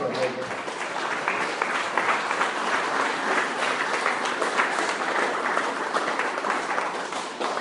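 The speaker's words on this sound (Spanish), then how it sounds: "Denle un aplauso a Dios." A church congregation claps together in a sustained, dense round of applause that fills the whole stretch at even loudness, with voices mixed in.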